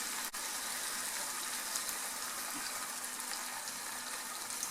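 Water poured into a thick teriyaki sauce cooking in a pan, a steady loud hiss and sizzle that runs without a break, with no voices.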